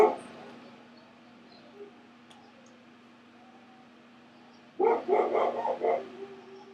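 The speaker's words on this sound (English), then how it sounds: "that's a dog that's staying with us" A dog staying in the house breaks into a quick burst of loud barks near the end, after a long stretch of quiet room tone.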